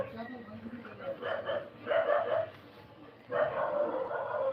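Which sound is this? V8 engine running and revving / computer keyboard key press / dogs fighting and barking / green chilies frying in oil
dogs fighting and barking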